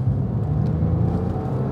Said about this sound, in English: The exhaust on this car I thought was standard, but it actually isn't. It's been modified internally so that it sounds just a little bit better than stock